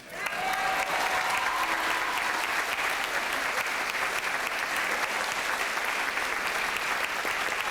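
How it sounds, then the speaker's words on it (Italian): Steady, full audience applause at an Italian evening comedy show, a dense even wash of many hands clapping for several seconds without letting up, with no talking. "lo stesso applauso lo farete adesso a una personcina"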